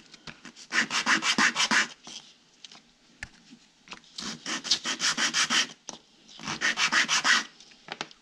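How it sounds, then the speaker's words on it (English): A wooden segmented turning gets a light sanding to knock off loose fibres, three bursts of quick rhythmic back-and-forth rubbing strokes separated by short pauses, close and clear with no talking. "just lightly sand it a little bit"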